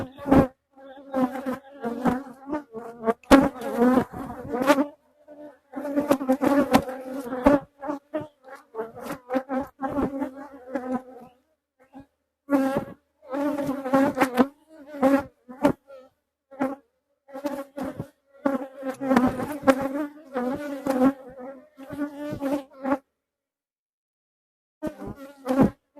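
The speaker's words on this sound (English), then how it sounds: "I've got some guard bees present pretty well too." Honey bees buzz around an open hive, close to the ear, with individual bees droning in and out in repeated passes and short gaps of quiet between them.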